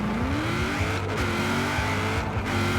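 A Buick Regal drag car in the racing game Forza Horizon 4 launches hard, its engine roaring and climbing steadily in pitch as it accelerates, loud and continuous, with brief dips where gears shift.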